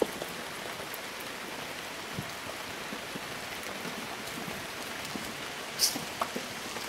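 Steady rain falls throughout, a dense even patter with occasional louder drops and a brief sharp sound near the end; no one speaks.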